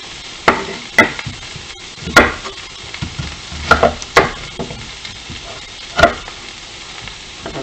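Vegetables and onions sizzle in a pan beneath a soft steady fry, broken by several sharp utensil knocks and scrapes against the pan at irregular intervals, close up and without speech.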